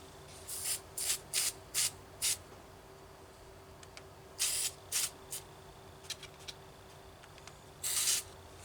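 High-tack gasket sealant sprays from a nearly empty aerosol can in short hissing bursts, several quick spurts then sputtering ones and a final longer spray, close against a quiet background during a carburetor rebuild.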